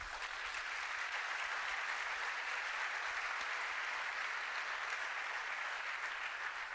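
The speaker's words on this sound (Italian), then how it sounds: "il più grande applauso va a voi e a tutti i volontari" Applause from an Italian live evening event's audience thanking volunteers, a thick, constant wash of many hands clapping at steady loudness throughout, with no speech over it.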